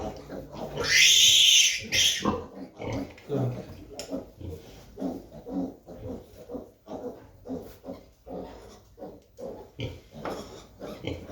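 Piglets feed with grunts, squeals and rhythmic chewing and snuffling, close and fairly quiet, with a loud high squeal near the start.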